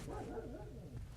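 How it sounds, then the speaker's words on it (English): A dog barks and yips in the background, a muffled wavering canine voice that is fairly faint and partly masked by room noise. "I have a dog and he's barking right now"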